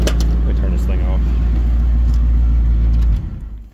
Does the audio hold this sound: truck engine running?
yes